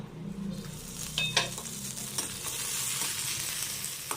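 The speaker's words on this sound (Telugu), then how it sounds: "నేను ఇప్పుడు మిరపకాయలు వేపుకుంటున్నాను అనమాట" Chilies fry in a little oil in a pan, a soft, faint sizzle near the mic with a low hum and a couple of light utensil clicks.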